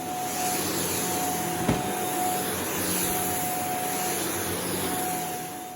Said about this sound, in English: Okay, let's get hoovering.